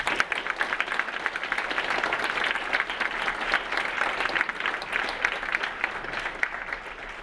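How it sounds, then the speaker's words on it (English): An audience at the Seaforth Highlanders of Canada Ortona Christmas Dinner claps in continuous applause, a dense steady patter of hands that holds at an even level from start to finish, heard from a little distance. "that is one thing I would like you all to applaud"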